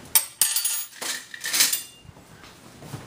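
A spoon clinks and scrapes against a container while strained homemade herbal soda is stirred, a few sharp metallic taps early on followed by softer swirling clatter, close and fairly quiet with no talking.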